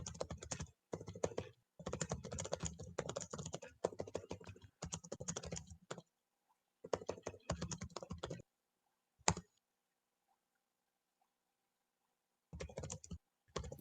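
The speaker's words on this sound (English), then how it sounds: "I was actually typing text in that channel" Rapid clattering keystrokes on a computer keyboard come in several bursts of a second or more each, separated by short pauses and a few isolated clicks, close and fairly quiet with no voices.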